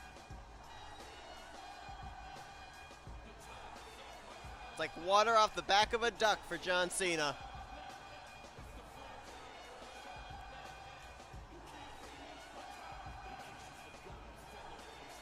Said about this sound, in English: Our very famous crowd letting John Cena know what they think about him.